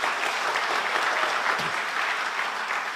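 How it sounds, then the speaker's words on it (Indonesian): A church congregation at a Sunday worship service claps together, a steady, dense roar of many hands at even loudness, continuous with no pauses or speech. "Beri tepuk tangan lagi buat Tuhan kita."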